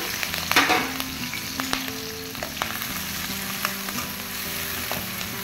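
Finely chopped green chillies fry in hot oil in a kadai, giving a steady close sizzle with occasional clinks and knocks of a stirring utensil; no one speaks.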